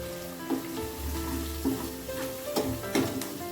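Cumin seeds hit hot oil in a pan for a Khandeshi dal and chili dish, a steady close sizzle with a few sharper crackles and stirring clinks over a quiet kitchen.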